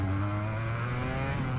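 An Aprilia RS250 two-stroke motorcycle engine revs hard and close, its buzzy, raspy note rising steadily with strong low harmonics throughout, with no talking.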